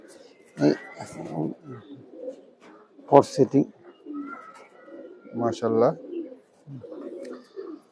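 Domestic game and tournament pigeons coo repeatedly in bursts at close range inside a home loft, with men chatting nearby between and over the calls.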